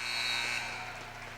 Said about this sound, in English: Right at the buzzer.